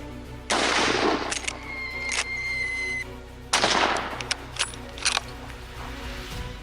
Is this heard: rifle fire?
yes